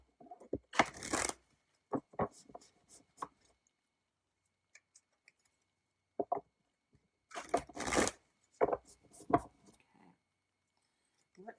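Tarot cards are shuffled close up in two quick riffling bursts, with scattered soft taps and slides between them in an otherwise quiet room.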